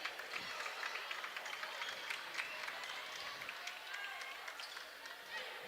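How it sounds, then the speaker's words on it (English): A high school basketball tournament crowd applauds in a gym, a faint, steady patter of scattered clapping heard from a distance while an announcer talks over it. "Good round of applause for Demarius Mayberry, who will sit down as"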